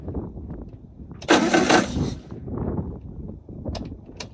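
A 1960 Triumph Herald engine, revived after decades idle, cranks and nearly catches in a loud burst of sputtering combustion. It then falls back to uneven cranking and rattles, with people talking nearby.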